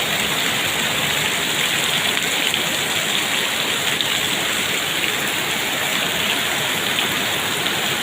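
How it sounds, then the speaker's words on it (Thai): Heavy, steady rain pouring down with a dense, constant hiss and patter, loud and close, no voices. "ฝนตก"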